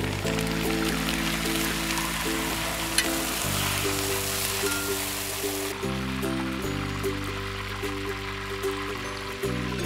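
Curry leaves fry in hot oil with a loud, dense, crackling sizzle like heavy rain, steady and close, while background music plays beneath it.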